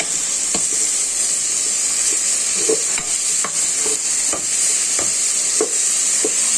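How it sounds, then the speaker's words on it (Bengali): Potato and tomato frying in a cumin tempering, a steady bright sizzle with repeated scraping stirs of a spatula at a slow, regular rhythm, close and loud with no talking. "আমি চুলায় জিরার ফোড়নে আলু আর টমেটোটা ছেড়ে দিয়েছি বেশ কিছু সময় হয়েছে এটা ভেজে নিচ্ছি"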